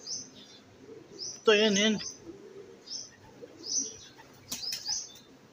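Pigeons flutter their wings in brief flapping bursts with soft cooing and chirps around them, fairly close, while someone speaks now and then.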